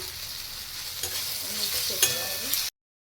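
Ground coriander, cumin and turmeric with ginger paste being stirred into a frying mixture in a pan, with a soft continuous sizzle and a few scraping stirs, close and fairly quiet.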